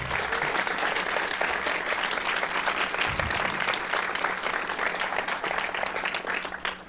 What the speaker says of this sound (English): I'd love for you all to give them a round of applause.